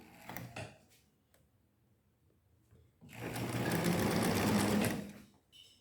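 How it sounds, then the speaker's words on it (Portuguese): A sewing machine stitches fabric, with a short burst of running at the start, a pause, then a loud, steady whirring and clattering run of about two seconds up close before it stops. "E vou costurando até o finalzinho dele aqui."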